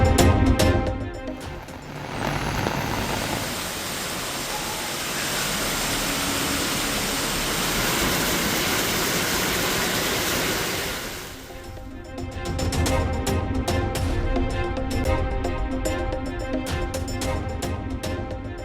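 Floodwaters roar over the Courtallam waterfalls in Tenkasi district after continuous rain, a loud, steady broadband rush of cascading water that keeps up without a break and grows choppier toward the end.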